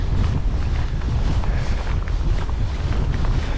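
Strong wind buffets the microphone in a constant low roar, gusting unevenly with no voices over it.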